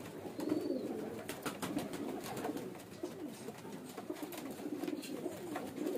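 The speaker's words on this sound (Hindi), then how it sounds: "बड़े साइज़ का कबूतर है" A large pigeon coos in low, rolling murmurs that run almost continuously, close by, over a steady background hiss, with no one talking.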